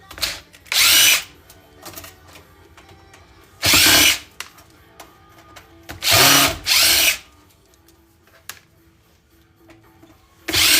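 A power drill backs screws out of electronic power supplies in short bursts, four or five loud whirring runs of about a second each, separated by quieter handling and clattering of parts.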